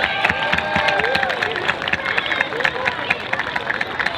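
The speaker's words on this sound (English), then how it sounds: "Let's give our 4th and 5th graders a nice big round of applause." A school assembly crowd claps and cheers for fourth and fifth graders, the applause loud and busy with children's chatter mixed in.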